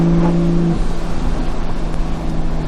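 A Toyota Supra cruises with a loud, steady engine drone, a low hum holding through the whole stretch with a pitch shift early on, no voices.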